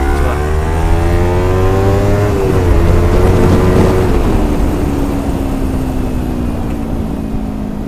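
A motorcycle engine runs at high RPM with a loud, steady buzzing note that dips slightly and settles while riding, accompanied by constant wind and road rush, close and continuous with no speech.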